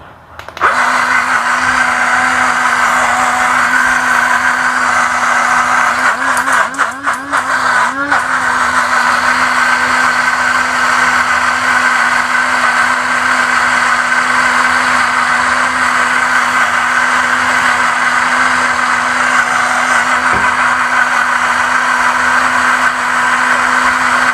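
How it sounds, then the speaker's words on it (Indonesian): A blender runs loudly and continuously, its motor whirring at a steady pitch with a brief rattle partway through. "Di blender 2-3 kali."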